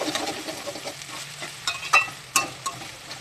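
Onions sautéing in a pan for spicy chicken, a steady soft sizzle with a few sharp stirring scrapes and clicks of a utensil against the pan, close and alone with no talk.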